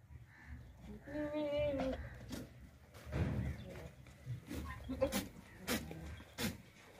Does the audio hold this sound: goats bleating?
yes